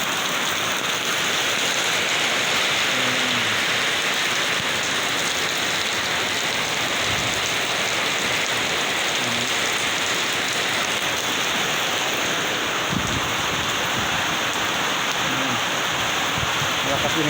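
Heavy rain pours down steadily, a dense, loud hiss drumming on surfaces throughout with no letup.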